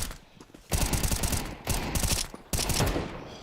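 Gunfire in a Counter-Strike match at a pro esports tournament: three loud, sustained bursts of automatic fire separated by short pauses, close and sharp, with no voices over them.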